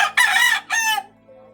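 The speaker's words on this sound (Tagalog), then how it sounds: "Nakita na ninyo na manok na" A rooster crows loudly and close by, a bright harmonic call in two bursts, with a faint hum underneath.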